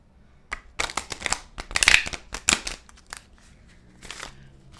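Tarot cards are riffled and shuffled in a run of crisp, papery bursts that cluster near the middle and taper to a few lighter flicks, close and fairly quiet, with no talking.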